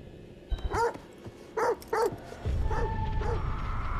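A dog in the horror game The Devil in Me gives a few sharp, close barks and yips in quick bursts, followed by a steady low rumble of background noise.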